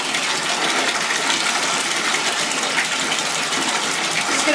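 Running water pours steadily from a bath faucet into a tub as a Lush bath bomb is crumbled beneath it, giving a loud, continuous gushing splash with no talk.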